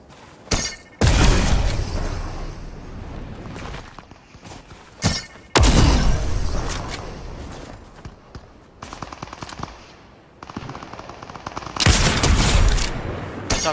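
Sniper rifle fire in a video game: heavy, booming shots, each followed by a long decaying rumble, are spread out at intervals, with fainter crackling and thuds between them.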